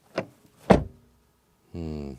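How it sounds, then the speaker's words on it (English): A Mercedes GLC 63 AMG car door is shut twice in quick succession, each a solid, heavy thud heard up close, followed by a short mechanical whir. "it's really heavy, so good quality door closing sound."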